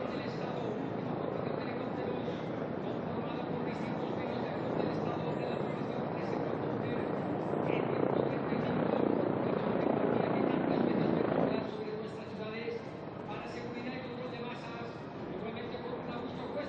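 A Chinook twin-rotor transport helicopter flies through a continuous, loud broadband rumble during a military parade for October 12, with the noise swelling and then easing slightly, while someone talks over it throughout.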